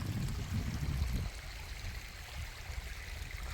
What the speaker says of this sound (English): Across a little bit of water.